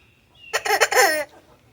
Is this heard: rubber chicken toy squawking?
yes